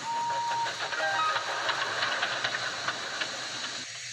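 A Bachmann model steam engine puffs and hisses in a steady soft rhythm, with a faint whistle-like tone early on, fairly quiet and without any talk.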